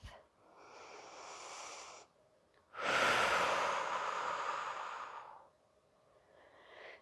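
Deep breathing during a yoga practice: two long, audible breaths, a softer inhale followed by a louder, drawn-out exhale lasting about two seconds, close and clear with no talking.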